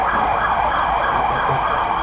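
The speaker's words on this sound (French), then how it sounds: "coupe-moi cette sirène s'il te plaît" An emergency vehicle siren wails loudly and continuously on a Seoul street, a close, sustained tone with traffic rumble underneath.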